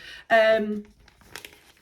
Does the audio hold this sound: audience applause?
no